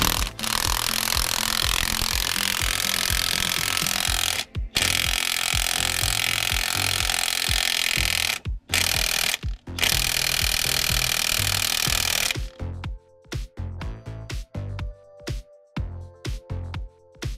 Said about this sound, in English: use the 1/2-inch high torque impact to finish tightening it until it reaches the inside